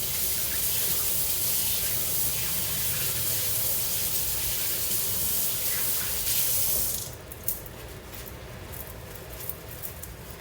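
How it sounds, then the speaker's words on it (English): Tap water runs steadily into a sink during handwashing, a loud, close, continuous spray and splash that cuts off sharply partway through, leaving quieter drips and small handling sounds. "let me wash my hands"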